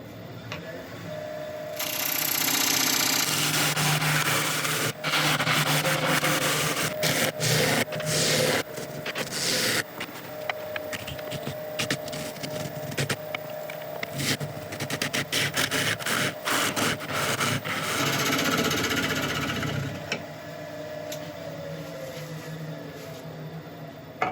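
A wood lathe cuts the final quarter inch off a workpiece in a few continuous passes, a loud, steady scraping whir with dense rattly texture that holds for most of the stretch before easing off at the end.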